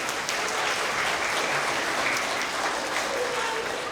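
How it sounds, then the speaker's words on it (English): Young kindergarten to second-grade children applaud together at a school award assembly, a steady, dense round of clapping that fills the room from start to end with no break. "we gotta give them a big round of applause, okay?"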